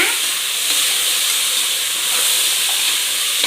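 Mutton added to a hot pan, sending up a loud, continuous broadband hiss of steam and sizzling, steady and close throughout.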